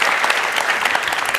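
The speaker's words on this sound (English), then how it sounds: "Give yourselves a round of applause." A TED Talk audience claps, a steady, close wash of many hands beating evenly for a second and a half with no voices over it.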